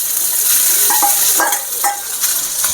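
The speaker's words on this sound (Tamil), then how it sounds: "நம்ம இந்த சாதத்தை அதில் கொட்டிக்கலாம் சோத்தை நல்லா உடச்சி விட்டு வச்சுருக்கணும்" Cooked rice tipped into a hot, sizzling pan and broken up with a spatula while making masala egg rice, a loud steady fry under a few scraping strokes.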